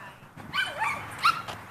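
A dog at a dog park gives a short, faint yelping bark and whine, brief and somewhat distant over a quiet background.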